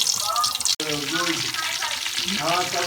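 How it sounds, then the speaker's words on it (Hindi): Fish pieces frying in hot oil give a loud, continuous close sizzle and crackle, while a voice talks over it throughout. "मछली जो है हमारी फ्राई हो रही है अभी, ऑयल गर्म हो गया।"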